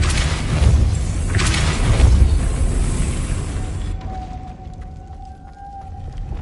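A Depulso spell cast in Hogwarts Legacy, a deep booming burst with a rumbling roar that rises, swells again, then cuts off, leaving a faint hum and quiet tonal after-sounds.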